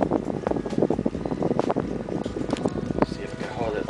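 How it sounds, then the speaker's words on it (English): Wind buffets a handheld camera's microphone outdoors, giving a steady rumbling, fluttering roar with gusty swells, loud and close throughout. "It's the wind."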